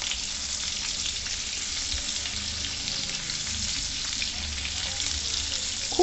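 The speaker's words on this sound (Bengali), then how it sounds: "হলুদ এবং লবণ দিয়ে আলুটাকে প্রথমে ভেজে নিতে হবে" Potatoes frying in oil with salt and turmeric, a steady close sizzle that runs unbroken and fairly loud throughout, with no voices.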